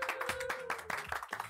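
A short burst of hand clapping, several people applauding in quick irregular claps.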